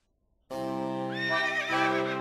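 A horse in a château's stables gives a loud, close whinny that starts abruptly and rises into a long, shrill neigh, with nothing else heard.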